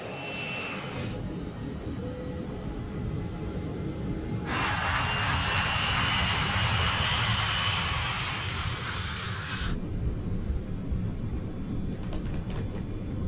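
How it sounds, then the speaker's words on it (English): Jet airliner engines spool up for a night takeoff roll on runway 21 left at Panama's Tocumen airport, a steady broadband roar swelling louder for several seconds mid-clip and then easing back, with no talk over it. "West Caribbean 708, runway 21 left, cleared for takeoff."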